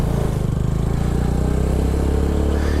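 A motorcycle engine running close by, a steady throbbing mid-range drone that holds level and firms up slightly toward the end as throttle is applied during basic rider training.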